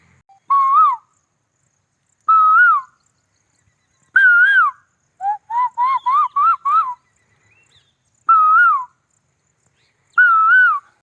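A retired teacher in Mandla imitates bird calls with his voice, giving a series of clear whistled, owl-like hoots at steady intervals, broken by a quick run of rising chirps in the middle, heard alone against silence.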